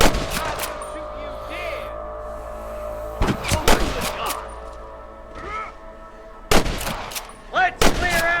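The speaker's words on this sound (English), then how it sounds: "I can hear more gunshots." Sharp, loud gunshots in Red Dead Redemption, several irregular cracks and bursts over an ambient game backdrop with faint background sounds between shots.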